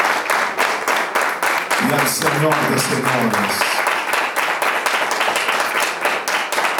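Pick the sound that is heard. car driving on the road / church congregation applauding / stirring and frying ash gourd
church congregation applauding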